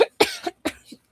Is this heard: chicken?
no